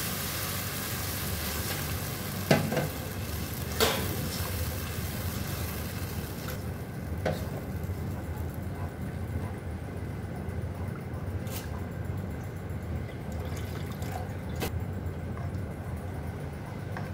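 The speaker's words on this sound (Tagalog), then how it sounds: "Kumukulo na ang gata." Coconut milk simmers with vegetables in a pan as it is stirred, giving a steady low bubbling and sizzling hiss broken by a few sharp scrapes and clinks of the utensil, with no talking.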